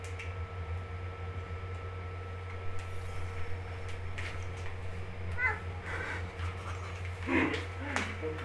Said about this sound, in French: il y a mon chat donc